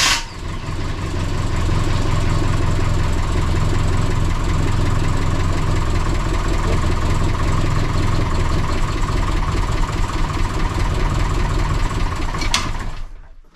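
A Renault 11 Turbo engine runs steadily, a loud, continuous rumbling idle with a rough knocking texture close by, holding for over ten seconds before cutting off near the end.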